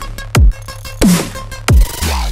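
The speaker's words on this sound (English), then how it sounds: "That's delaying them very fast, which is making it sound a little bit more metallic" Synth hits run through a fast linked delay with 42% feedback mixed at 65, giving a metallic, ringing tone: three sharp bursts with pitch-falling tails and a rising sweep at the end, fairly loud with no talking.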